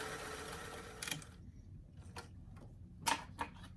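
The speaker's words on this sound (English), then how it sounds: "I'm going to sew all the way around the shirt" Sewing machine running a zigzag stitch around a small doll t-shirt, a steady continuous whir for about a second and a half, then quieter with scattered clicks and soft handling noises.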